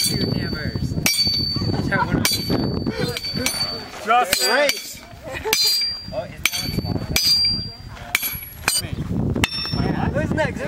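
Outdoors at a YSMP 2009 gathering at White Cone, hammers strike repeatedly with sharp metallic clanks at an uneven pace while a group of people chatters, cheers and calls out over the blows.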